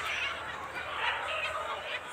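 Poultry farm chickens kept in large numbers, a dense, faint murmur of many birds calling together continuously at a distance.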